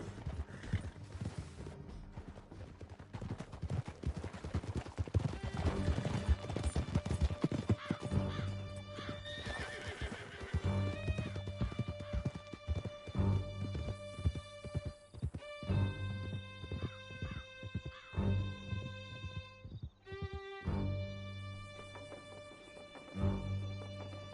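Horses gallop in Red Dead Redemption II with rapid, driving hoofbeats and occasional whinnies, under a swelling orchestral score with sharp accents, loud and continuous for the whole stretch.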